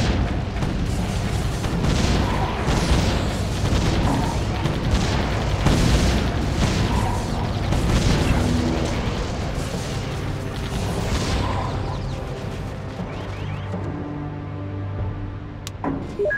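Gun towers firing shells in Defense Grid, a rapid rolling barrage of booming shots and impacts that stays loud and dense, then thins out toward the end.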